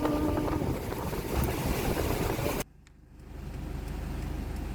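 Strong wind roars and buffets the microphone outdoors on a windy morning in Iceland, then drops abruptly into a quieter, steady low rush.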